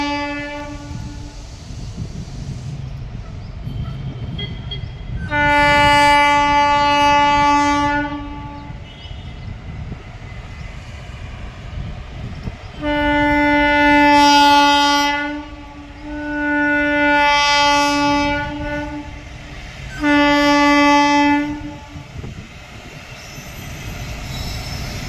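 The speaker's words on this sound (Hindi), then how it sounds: "मालगाड़ी आ रही है।" A freight train arrives at a station near Manak Nagar, Lucknow, sounding several long, loud horn blasts in separate bursts over a constant rumble of wheels and engine.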